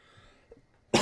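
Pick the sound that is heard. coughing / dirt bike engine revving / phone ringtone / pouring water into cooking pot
coughing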